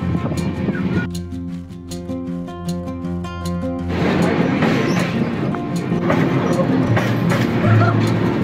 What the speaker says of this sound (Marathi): आणि मी बोलण्यामध्ये माझी ट्रेन जात आहे.